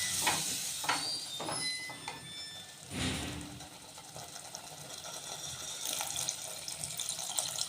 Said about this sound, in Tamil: தேவையான அளவு தண்ணி விட்டுக்கலாம்